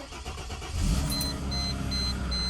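A well-used collectible car's engine turns over and settles into a steady mid-pitched idle nearby, while a few short electronic beeps from the dash repeat at intervals.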